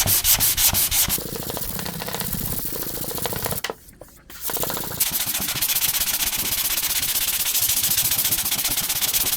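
A hard sanding block scrubs primer on a 1967 Nova body panel, making loud, continuous rasping strokes close up, with one brief pause partway through before the steady rubbing resumes.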